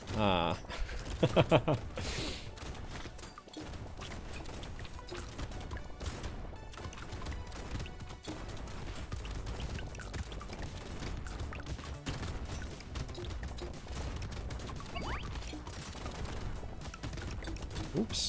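Rapid bursts of shotgun fire from a triple shotgun build in Brotato crackle steadily under game music, dense and fairly quiet throughout.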